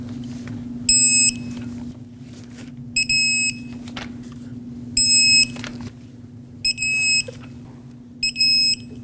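An electronic torque wrench beeps while strut bolts are tightened to 76 foot-pounds on a 2006-2015 Lexus IS250. Five bright tonal beeps, each about a second long, repeat at an even pace over a low, steady hum.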